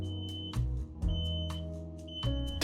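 An X-Sense combination smoke and carbon monoxide detector sounds its test alarm as a series of sharp, piercing beeps in a steady repeating rhythm over a low background hum, fairly faint and with no talking.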